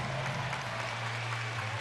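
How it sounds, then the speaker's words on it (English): Volleyball fans in an arena give a continuous wash of applause for a fair play green card during a France versus Brazil match, steady and moderately distant, with no clear voices. "Fans applauding that, understanding the Fair Play Award and what it means"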